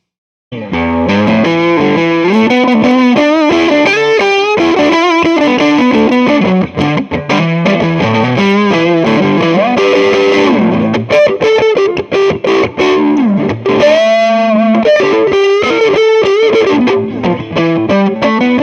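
Overdriven electric guitar on the neck pickup through a Fender Blues Jr. amp plays a loud, sustained phrase of ringing notes and chords, continuous for most of the stretch with brief dips between phrases.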